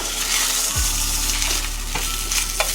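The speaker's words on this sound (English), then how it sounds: "Sear the tuna." Tuna steak sears in hot oil in a pan with a loud, steady sizzle, and a brief clink of a utensil comes partway through.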